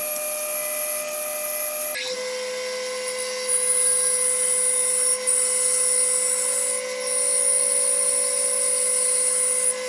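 A router bores a 3.5-inch hole through a wooden block for a homemade router lift. It gives a loud, steady high-pitched whine that briefly drops in pitch as it bites into the wood, then holds under load with small wavering changes.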